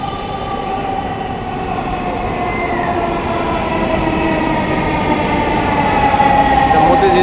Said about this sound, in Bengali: ওই যে একটা মেট্রো আসছে ওপার থেকে